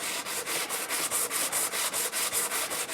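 Scrub block sanding the frets of an Orville by Gibson Les Paul during a re-fret: steady rhythmic back-and-forth rubbing strokes, close and fairly loud, about three per second, with no talking.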